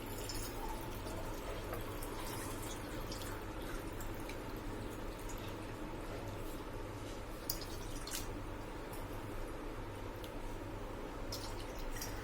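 Water is poured into a kadhai for chakli dough, a soft, steady, continuous trickle with faint drips, heard alone at low volume for the whole stretch.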